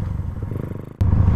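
A tuned, set-up Raider 150 motorcycle engine in poor condition runs with a steady, rough idle, then surges abruptly louder about a second in and holds a strong rumble, up close with no talking.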